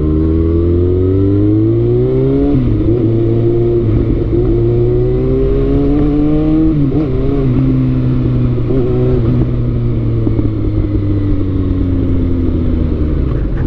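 Kawasaki ZX6R sport bike being ridden on a street, engine held under throttle with a steady loud drone that climbs and dips in pitch through shifts, close to the rider, no talk.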